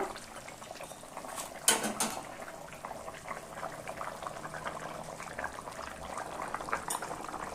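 A thin fish broth seasoned with green chilli and cumin bubbles steadily in a pot, a continuous close boil with a couple of brief clinks early on and no talking.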